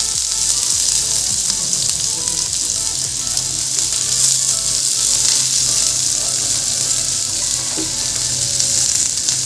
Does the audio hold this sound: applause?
no